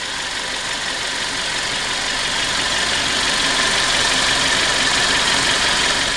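An old Toyota 7A-FE engine with 213,000 miles idles steadily, a close, even mechanical hum running on without a break and with no talk over it.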